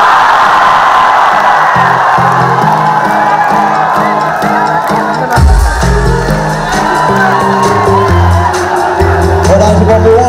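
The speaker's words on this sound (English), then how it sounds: "Give me a scream if you recognize this." A Techfest festival crowd at IIT Bombay screams and cheers loudly and continuously over pounding electronic music with a heavy bass drop midway.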